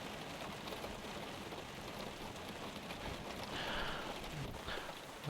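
Simulated rain in the X-Plane 12 flight simulator makes a faint, steady patter and hiss throughout, with no voices over it.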